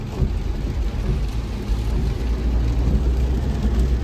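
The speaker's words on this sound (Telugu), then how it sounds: "ఇక్కడ కొంచెం తగ్గింది వర్షం." Steady rain hisses without a break on a road trip by lorry from Hyderabad to Nirmal, with a low, continuous rumble underneath and no voices.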